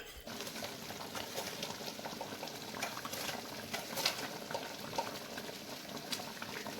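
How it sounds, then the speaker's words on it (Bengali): Boiled olives simmering in sugar syrup in a pot, making a steady, close bubbling with small pops throughout and no voices. "এখন এই শিরার মধ্যে এই জলপাইটা, সেদ্ধ জলপাইটা আস্তে আস্তে হতে থাক"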